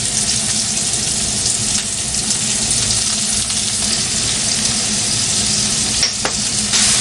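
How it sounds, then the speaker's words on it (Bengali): Chopped onion fries on a very low flame, making a loud, continuous close-up sizzle with a faint hiss of running tap water in the background and no voices. "আর এই ভাজাটা না খুব লো ফ্লেমে রান্না করতে হবে"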